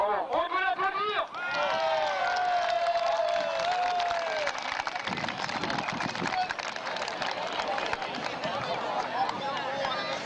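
An audience applauds, a crowd of rapid, dense clapping that swells in after a voice calls out over a public address, continuing steadily to the end.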